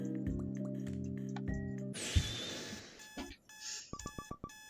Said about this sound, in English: Dia hits her alarm and flops face first into bed.